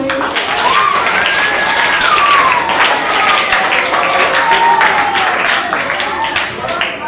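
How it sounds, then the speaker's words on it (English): An audience applauds at a school debate competition: a dense, sustained round of clapping fills the whole stretch, with a voice heard faintly over the crowd. "Clap for him."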